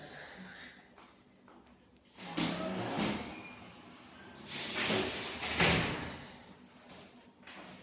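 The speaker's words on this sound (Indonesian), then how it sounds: "saya bangun tutup pintu dulu ya, supaya kita dua cerita agak nyaman kita." An indoor door is pulled shut, with quiet shuffling movement around it and a couple of soft thuds as it closes, heard alone at low volume.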